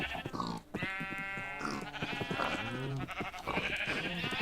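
Sheep bleat in the Minecraft video game, several wavering calls overlapping one another, loud and close, with no talking.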